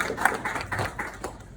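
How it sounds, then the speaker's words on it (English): An audience at a comedy night at Verdugo Bar in Los Angeles claps to welcome the next comedian to the stage, a short patter of scattered applause heard at moderate distance. "I want you guys to welcome to the stage with a big round of applause the next comedian"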